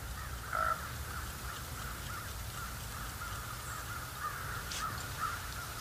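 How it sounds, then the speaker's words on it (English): A raven gives a few hoarse croaking calls, distant and faint over steady outdoor ambience on a snowy wolf hunt. "one of those ravens kind of swings right over us, eyeballs us"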